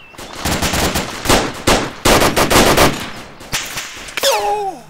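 Loud bursts of automatic gunfire crackle in quick rapid strings in the military video game Arma II, close and dense, with a short pause before a final volley and a brief whistling tone at the end.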